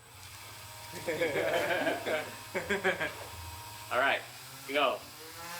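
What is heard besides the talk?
old Dremel rotary tool motor powering a makeshift drone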